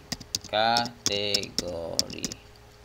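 Computer keyboard keys click crisply in quick bursts while copy-paste shortcuts are used during PHP and MySQL database work, with a person talking over the tapping.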